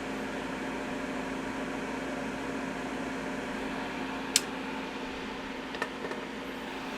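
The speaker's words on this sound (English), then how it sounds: "So that is a pretty awesome fume extractor." Solder fume extractor fan runs with a steady close whir and hum, broken only by a couple of faint clicks near the end; no talk.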